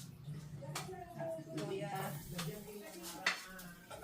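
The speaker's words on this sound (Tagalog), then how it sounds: "Tapos, igigisa ko muna ng saglit yung bawang, sibuyas at luya." Garlic, onion and ginger go into a pan for a quick sauté while cooking bamboo shoots with coconut milk; soft stirring and sizzling come with utensil clinks and a sharp clack near the end, while a person talks at times.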